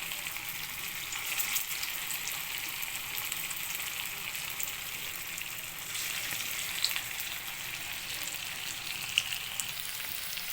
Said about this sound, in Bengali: দেখো যে ভাজা হচ্ছে।